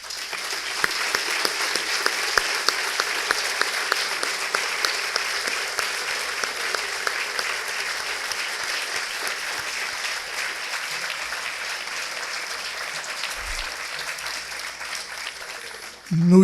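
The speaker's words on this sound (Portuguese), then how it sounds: "uma salva de palmas" Sustained applause from an audience at an academy induction ceremony, steady and dense throughout, with a brief louder burst right at the end.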